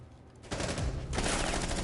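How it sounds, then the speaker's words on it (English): Suppressing fire in a competitive shooter game: after a quiet half second, a dense, continuous burst of rapid automatic shots starts up loud and close, then swells even heavier partway through. "Cozy sending out some suppressing fire"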